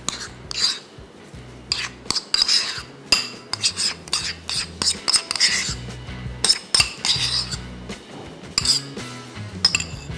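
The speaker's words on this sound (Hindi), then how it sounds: "इसको खूब अच्छी तरीके से पहले मिक्स करेंगे और उसके बाद साइड पे कर देंगे।" A spoon mixing ingredients in a bowl for a crispy aloo kulcha filling with butter and salt: repeated bright clinks and scraping taps of metal on the dish, irregular and close, with no talking.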